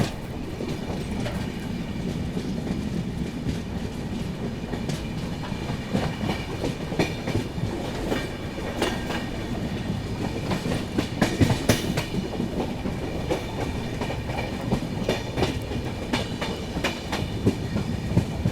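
A train keeps running past Dhamalgaon railway station without stopping, a continuous loud rumble with rhythmic clickety-clack of wheels over rail joints and scattered metallic clanks throughout.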